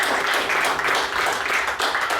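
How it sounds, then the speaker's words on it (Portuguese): A church congregation applauds during a worship service, producing dense, continuous clapping that stays loud and steady throughout without pauses. "Você pode aplaudir Jesus?"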